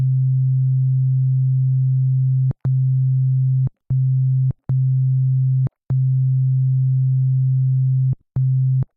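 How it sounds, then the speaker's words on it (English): A sine-wave synth patch in NI Massive with the chorus effect fully wet holds a steady, loud, low tone, broken by several short gaps and clicks. There is no talking. "It's not really as apparent with a sine wave."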